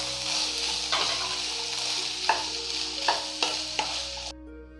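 Pomegranate thoran with grated coconut is sautéed in a pan: a bright, steady sizzle broken by several sharp spatula scrapes and knocks, then cut off abruptly near the end.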